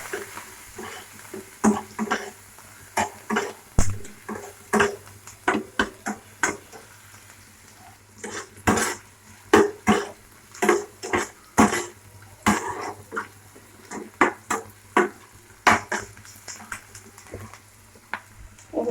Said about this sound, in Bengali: চিনিটাকে একটু ভালো করে নেড়ে চেড়ে নেবো।